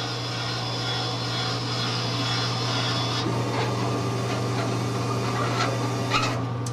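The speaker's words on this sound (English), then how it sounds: "Our elevator zeroes back out." Elevator motor inside an Anytime Pizza arcade vending machine under repair, driving back to its zero position: a steady, close mechanical hum with a low tonal drone and faint scattered clicks and rubbing throughout.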